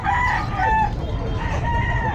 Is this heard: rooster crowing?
yes